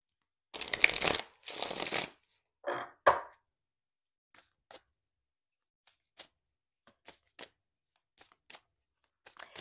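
Tarot cards are shuffled in a few loud riffling bursts, followed by a series of soft, scattered card taps and flicks as the deck is handled in a quiet room.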